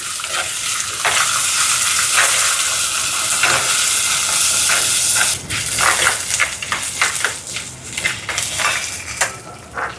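Dried red chillies and curry leaves roasting lightly in a pan, giving a steady soft sizzle with frequent scraping and stirring clinks of a utensil against the pan, loud and close with no talk.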